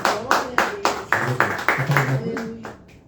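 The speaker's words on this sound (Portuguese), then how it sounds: "Aplauda o Senhor muito forte" A church congregation claps in unison, a series of sharp, evenly spaced group claps about every quarter second, with sung or spoken voices underneath, fading out near the end.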